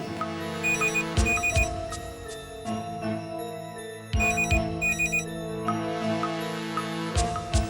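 A phone in a home rings with a repeated electronic chiming pattern of bright, tonal bursts that play loud and alone for several seconds.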